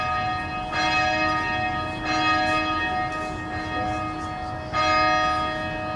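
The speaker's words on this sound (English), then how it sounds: "It's the 6th bell." The sixth carillon bell of the Gordon Stuart Peek Memorial Bells rings four times at a slow, steady pace, each clear metallic strike leaving a long ringing decay.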